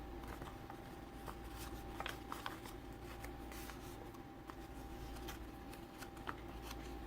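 Origami paper being creased into mountain folds while making a Twitter bird, giving a steady, close rustle and crinkle with small sharp crackles over a constant low hum.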